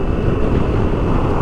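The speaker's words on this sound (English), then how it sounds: "that exhaust pipe, or the exhaust note, sounds a hell of a lot" Loud, steady exhaust drone from a BMW K1600 GT motorcycle after an ECU flash, a dense continuous rumble with no pauses or voices throughout.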